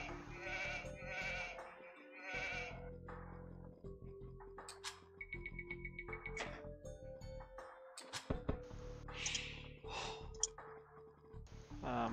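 Sheep bleating in a real-time strategy video game, several short digital bleats among interface clicks and other game sound effects, with no talk over them.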